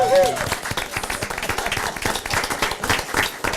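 A round of applause breaks out at a City of Brawley council meeting, with uneven clapping from the audience and some voices mixed in during the short burst.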